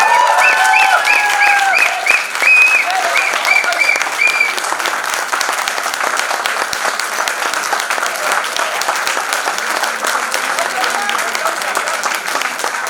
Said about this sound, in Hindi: आपकी तालियां बता रही हैं कि आपको नाटक वाकई बहुत पसंद आया।